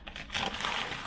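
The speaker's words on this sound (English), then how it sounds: "wretched old contact paper off of here" Brittle, crinkly tearing of rotted old contact paper being peeled off a water-damaged wooden board beneath a kitchen sink, a continuous close rasp that grows louder and denser after the first third of a second.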